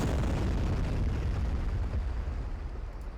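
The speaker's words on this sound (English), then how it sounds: "Okay, it's like a large explosion." A large explosion effect from a Freelancer mod booms out at full loudness, then its dense roar slowly dies away.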